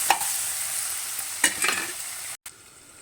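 Tomatoes cooking down in a pan for egg curry, a constant sizzling hiss broken by a few scraping stirs of a spoon, with a brief cutoff near the end.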